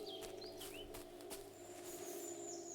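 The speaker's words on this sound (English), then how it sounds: "birds chirping." Small birds chirping outdoors among leaves in warm sun, with a few faint high tweets and short whistled calls over a steady low hum, quiet and somewhat distant.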